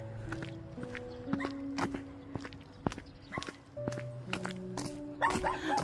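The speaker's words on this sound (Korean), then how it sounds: "동네 개들이 다 저보고 짖네요" Village dogs bark and yip intermittently at moderate distance, several overlapping, with footsteps crunching nearby in a rural neighborhood in Bongpyeong, Korea.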